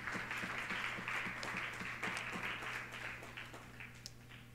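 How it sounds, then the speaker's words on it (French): A church congregation claps along in a steady rhythm during worship, a moderately loud run of rapid, even handclaps that softens slightly toward the end. "Acclame très fort le Seigneur."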